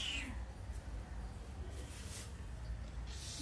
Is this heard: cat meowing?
yes